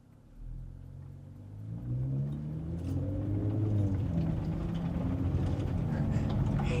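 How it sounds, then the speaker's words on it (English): A 2025 Nissan Z Nismo accelerates with its windows down, the engine note climbing through rising pulls under a growing roar of tire and road noise from sticky tires, loud and close. "We are picking up so much road noise from the tackiness of the tires."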